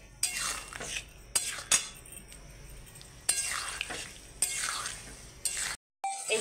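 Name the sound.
sautéing potato, pointed gourd and prawns in spiced oil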